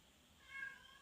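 A single short, faint meow from a pet cat, indoors, rising and falling in under a second against quiet background hiss.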